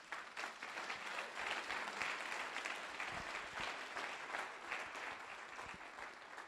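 A church congregation applauds with steady, dense clapping from many hands, moderately distant and sustained throughout without spoken words.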